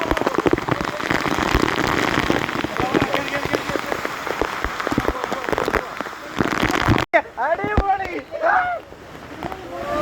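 Heavy rain pours steadily onto surfaces on a Marayoor hillside during a Munnar trip, loud and continuous, with people talking underneath it; near the end the rain briefly drops away and voices come forward.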